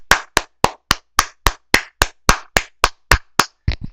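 A single pair of hands claps about fourteen times in a steady, evenly spaced rhythm, each clap sharp and close, in honour of a young London Knights hockey player.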